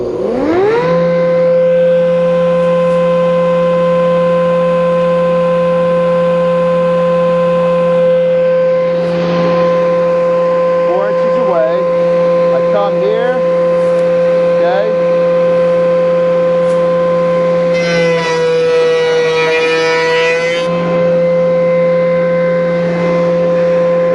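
A wood shaper spins up to speed and holds a loud, steady whining tone, with a brief rougher burst of cutting through wood near the end.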